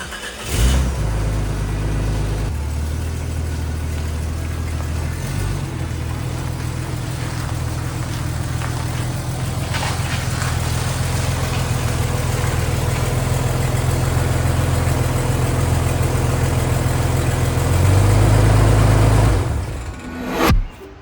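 A Jeep engine runs steadily up close for about twenty seconds as the vehicle is driven, with a deep continuous drone that swells slightly louder near the end before cutting off. No one speaks.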